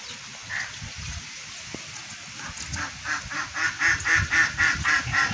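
A run of rhythmic honking quacks from a duck at a village house in Pakistan grows louder toward the end, with low rustling background noise throughout.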